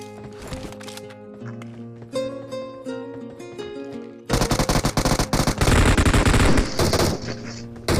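Video game BGMI gunfire erupts as dense, loud bursts of rapid automatic shots layered over game music and effects, with a quieter tonal stretch before the shooting begins.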